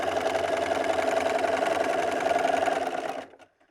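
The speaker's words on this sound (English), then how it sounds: "I'm going to go all the way to the bottom using 1/4 of an" A sewing machine runs steadily for about three seconds, stitching a quarter-inch quilt seam, a close, even, fast mechanical whir with no voices, and then it stops.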